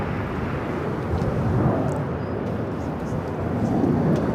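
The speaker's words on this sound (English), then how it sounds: "Korean Air Flight 11, the second Korean Air flight of the day. Making that right-hand turn onto Kilo." A Korean Air airliner taxis at LAX, turning onto a taxiway, with a steady, broad jet engine rumble and hiss that holds even throughout.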